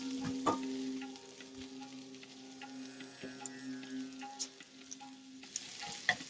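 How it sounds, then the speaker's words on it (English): Sliced peppers sauté in a pan over medium-high heat for a cashew chicken stir-fry, a soft steady sizzle with occasional stirring scrapes and clinks, faint background tones, and a brief louder rattle near the end. "I'm just going to saute the peppers for about a minute"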